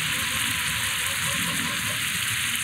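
Meat fries in hot oil in a pan, giving a dense, steady hiss and crackle that stays even and close throughout, with no voices.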